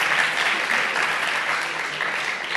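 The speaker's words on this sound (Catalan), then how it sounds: "fora aplaudiment" Quiz show studio audience and contestants clap after a team scores 25 points, a dense, steady burst of applause close by.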